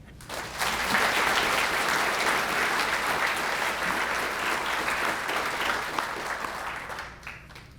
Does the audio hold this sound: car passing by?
no